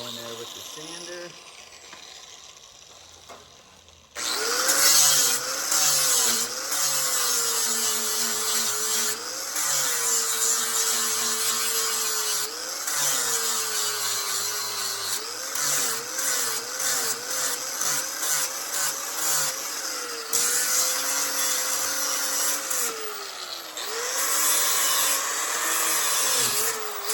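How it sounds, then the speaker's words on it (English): A power sander whirs loudly up close after a quiet start, its pitch wavering as pressure changes, with brief dips and restarts and occasional voices talking beneath the motor. "Sander."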